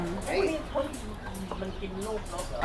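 Golden and yellow pheasants at a bird and pet shop stall give short clucking calls, some near and some farther off, while people talk over them.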